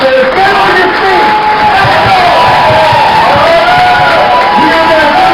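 A large crowd at a political rally roars with cheering, whoops and shouts, loud and sustained across the whole moment with a dense wall of voices.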